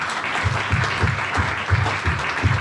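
Church congregation applauding together in a steady, sustained wash of clapping with rhythmic beats, filling the room, no talk over it.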